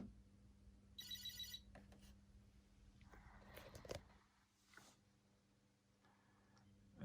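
A Commodore PET 8032-SK computer powering up with its startup tone: a brief high beep near the start, followed by scattered clicks and faint noises over a steady low mains hum.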